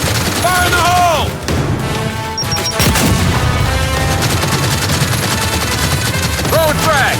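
Gears 5 combat: a grenade explosion and heavy gunfire crash loud and close without a break, with a voice shouting under the din.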